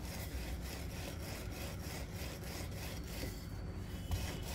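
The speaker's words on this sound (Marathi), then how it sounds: "हलक्या हाताने आपल्याला हा पराठा लाटून घ्यायचा आहे" A rolling pin rolls out a papad paratha on a board in soft, steady back-and-forth rubbing strokes, close and quiet, with no voices.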